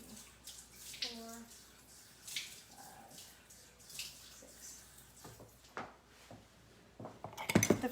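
Small splashes of water are poured by the tablespoon into a bowl in several separate pours, with faint dripping and clinking of utensils in a quiet kitchen.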